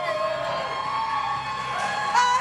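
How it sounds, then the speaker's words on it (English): Crowd cheering in a standing ovation at a live bar trivia event, a steady broad wash of applause and shouts with a brief louder swell near the end. "Look at standing O for Marnie."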